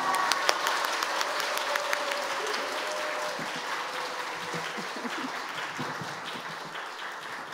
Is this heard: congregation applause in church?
yes